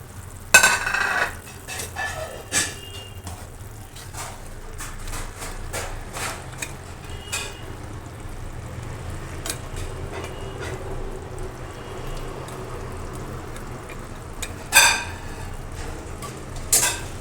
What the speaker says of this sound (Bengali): এই যে মাছ আর বড়ি তরকারি পানিটা ফুটে গেছে এখন দিয়ে দিচ্ছি